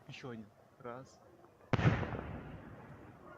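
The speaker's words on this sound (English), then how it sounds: "we can also hear some kind of an explosion" A single sharp blast, likely from a strike amid air defense activity overhead in the war in Ukraine, bursts out after brief talk, then trails off into a rumbling, noisy decay for a couple of seconds.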